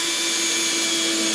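A power drill drives drywall screws into a wall patch, a steady close whirring whine held for a brief moment alone.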